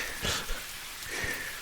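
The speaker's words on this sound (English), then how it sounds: "Rain out of the storm." Storm rain falling as steady background ambience, a continuous soft hiss of drops on surfaces with faint low rumbles, no voices present.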